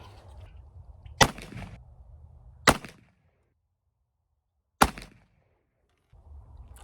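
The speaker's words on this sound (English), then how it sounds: "we're gonna shoot 3 more and hopefully tighten the group up" Three sharp, loud gunshots from a Taylors Smoke Wagon .44-40 revolver crack out at an outdoor range, spaced unevenly over several seconds with brief quiet gaps between, against faint background rumble.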